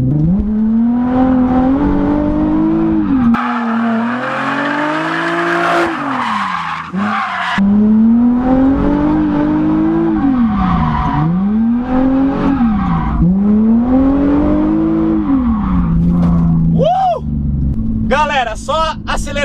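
Nissan 350Z drifting on a track, engine revving and falling in repeated cycles while the tires squeal loudly and continuously, with someone talking over the car throughout.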